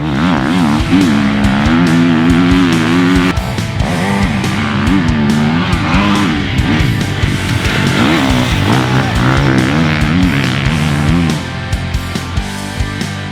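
Close, loud GasGas MC450F Troy Lee Designs edition 450cc motocross bike engine revving hard, pitch climbing and dropping repeatedly as the rider shifts and throttles.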